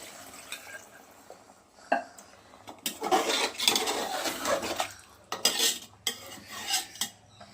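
Liquid gravy ladled into a pot of Kashmiri aloo dum with boiled potatoes, heard as clinking of a metal spoon against cookware, a splashing middle stretch and a few later scrapes, close and moderately loud with no voices.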